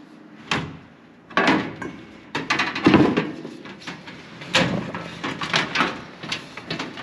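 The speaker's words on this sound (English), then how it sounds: "door goes on this one." Door being fitted onto a Harbor Freight blast cabinet, with scattered knocks, clunks and rattles of metal panel and hardware at close range over several seconds, no speech.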